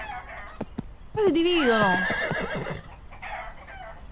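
Cartoon chickens cluck and crow in a loud, squawking run of calls lasting a couple of seconds, with a voice speaking briefly before and around them.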